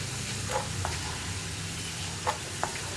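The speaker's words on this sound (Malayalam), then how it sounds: "ഞാൻ ഹൈ ഫ്ലെയിമിൽ വെച്ചിട്ട് തന്നെയാണ് വറുക്കുന്നത്." Ginger pieces frying in hot oil over a high flame give off a steady close sizzle, broken by a few faint clinks of stirring.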